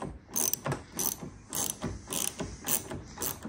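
A hand ratchet with a 5mm socket clicks in quick repeated bursts, a steady rhythm of sharp metallic ticks as it is cranked back and forth, close and clear, while loosening a door handle on a Ford F-150 Lightning.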